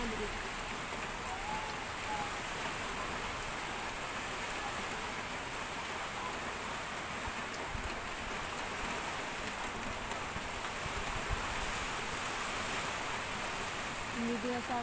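Heavy rain during a powerful typhoon pours down as a dense, steady hiss of drops on surfaces, continuous and fairly close, with occasional faint low rumbles underneath.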